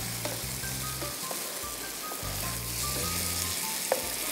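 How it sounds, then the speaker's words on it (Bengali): Boneless chicken fries in hot oil, a dense continuous sizzle that stays steady and fairly quiet throughout, with a faint low rhythmic tone running underneath and no talking. "তেল উঠে গেছে চিকেনটা আমি দিয়ে দিই"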